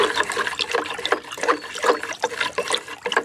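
Sloshing, trickling water as molasses is stirred into it with a stick to make sugar water for an orchard spray, a continuous close wet swirl with small splashes.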